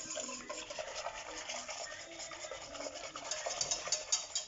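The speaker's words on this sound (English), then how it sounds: "and I whisk it." Sifted flour whisked in a bowl: a steady scratchy, brushing rattle of whisk against the bowl, continuous and fairly close, getting slightly louder and more clicky toward the end, with no voices.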